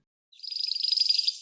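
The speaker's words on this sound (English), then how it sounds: "canary," A canary sings a single high, fast-trilled phrase of about a second, clear and close, starting suddenly after a short silence and then trailing off.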